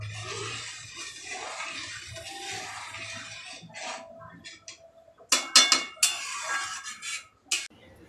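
Water poured into pav bhaji simmering in a pan: a steady wash of pouring and bubbling noise for several seconds, followed by sharp clinks and scrapes of a utensil against the pan, close and fairly loud, with no voices.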